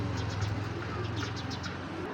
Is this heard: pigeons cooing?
yes